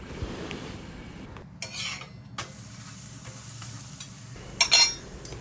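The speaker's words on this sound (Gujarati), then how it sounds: "તો આપણે ઘીમાં પરોઠાને મીડિયમ ગેસની ફ્લેમ પર શેકી લઈશું." A paratha roasts in ghee over a medium gas flame, giving a steady sizzle and frying hiss with occasional sharp scrapes and clinks from a spatula against the pan.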